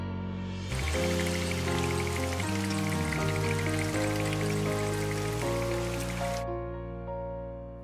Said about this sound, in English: When is it gonna stop raining?